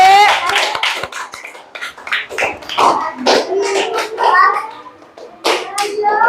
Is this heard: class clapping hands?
yes